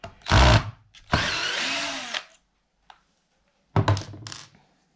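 A power drill unscrews fasteners to remove a 12-volt motor from a mechanical inverter, in short loud close whirring bursts separated by quiet gaps and a few faint clicks.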